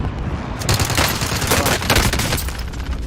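Gunfire in a first-person shooter video game comes as dense, loud, rapid cracking shots with no pauses, sounding more like a firefight than a single sniper shot.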